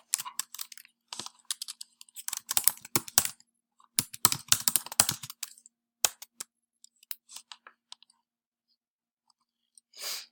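Bursts of quick clicky keystrokes on a computer keyboard while a test name is typed, close and crisp, with short pauses between clusters of taps and no talking.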